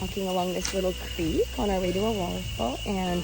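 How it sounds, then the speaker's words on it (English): A cicada (chicharra) sings in a Costa Rican forest beside a small creek near Osa, holding a steady, thin high-pitched buzz that runs through the whole moment beneath a man's close, continuous speech. "that sound is a bug called chichara"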